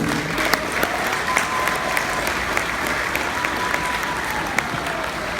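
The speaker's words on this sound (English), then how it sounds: "Give yourselves a round of applause, maybe." Graduating students and guests at a June ceremony clap in a sustained round of applause, dense and fairly loud, with occasional sharper individual claps standing out.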